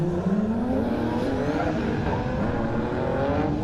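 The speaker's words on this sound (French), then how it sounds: "Allez, Sylvain qui part devant avec la Nissan." A Nissan drift car revs hard and loud in a continuous engine roar with rising pitch during a battle at Val d'Argenton, with no talk over it.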